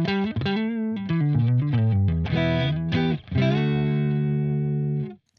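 A distorted electric guitar plays a short riff through a heavily driven amp, ending on a long sustained chord that rings out and fades.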